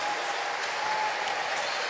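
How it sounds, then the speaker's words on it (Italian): Applause from the crowd at a rugby Coppa Italia Serie B cup final, a steady dense wash of clapping that holds at a constant level throughout with no voices rising above it. "si prende gli applausi anche degli avversari"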